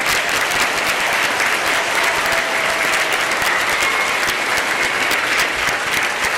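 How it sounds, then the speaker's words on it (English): A school audience claps for veterans at an elementary Veterans Day program, dense and loud applause that stays even from start to finish with no talk over it. "let's give our veterans a round of applause."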